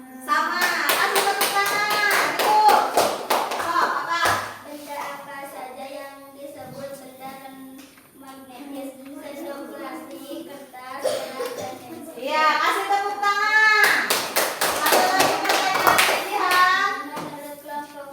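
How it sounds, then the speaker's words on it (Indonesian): A class of primary school children claps in bursts of quick, rhythmic applause in an elementary school classroom, mixed with children's chatter, and a teacher speaks between the rounds of clapping. "Ya, ini silakan kasih tepuk tangan dulu,"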